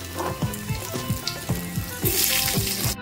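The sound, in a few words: diced potatoes frying in oil with salt and turmeric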